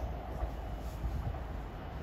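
A train rumbles steadily through a station, low and continuous with a faint high whine above it, no voices.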